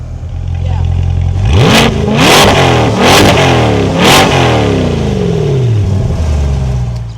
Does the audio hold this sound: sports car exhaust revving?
yes